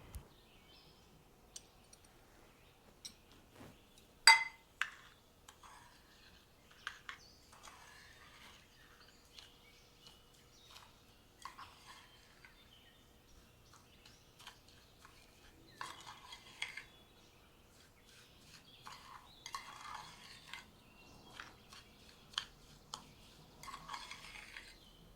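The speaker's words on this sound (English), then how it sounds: "Now mix the butter, cinnamon, and brown sugar together to make a filling." A butter, cinnamon and brown sugar filling is stirred in a bowl with a utensil, giving quiet, irregular scrapes and clinks close by, with one sharper knock early on.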